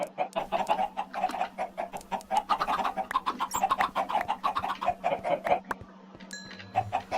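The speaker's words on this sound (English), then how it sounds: "Chickens all over the place." Chickens in the Minecraft video game cluck in a rapid, continuous patter, as if many birds are scattered around. Brief softer game noises follow near the end.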